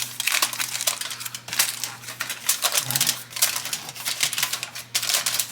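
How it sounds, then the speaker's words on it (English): Aluminium foil crinkles and crackles in a steady run of dense rustles as it is pressed tightly over a taco lasagna dish, close and fairly loud with a faint background hum. "we're going to get our foil because this needs to be covered tightly"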